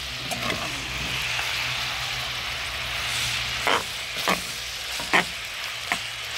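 Pork leg meat for adobo searing in its own rendered fat, a soft continuous sizzle with several louder scraping stirs and clatters from a utensil against the pan.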